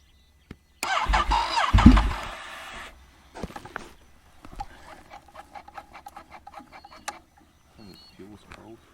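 A cold car engine cranks hard for a couple of seconds and fails to catch on a chilly outback morning. Sputtering attempts and clicks follow, and people talk briefly in between.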